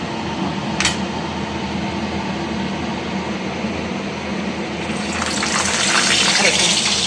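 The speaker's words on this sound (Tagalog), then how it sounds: "Matalsik siya, tumatalsik siya. Kasi may tubig." Eggplant dropped into a pan of hot oil that is still wet from washing, a steady hiss of frying that grows louder and busier toward the end, with one sharp pop early on, close by.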